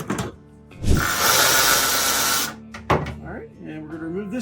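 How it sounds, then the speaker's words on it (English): A power screwdriver whirs steadily for about a second and a half while screws come out of the gas tank of a 1970 VW Karmann Ghia, with someone talking before and after the burst. "we're going to remove some screws"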